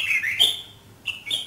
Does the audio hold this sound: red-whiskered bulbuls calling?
yes